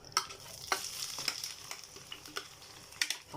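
Swiss chard greens with coriander and garlic hitting plenty of hot ghee over a little oil, giving a soft continuous sizzle broken by a few sharp crackling bursts and light stirring scrapes, close up and without talk.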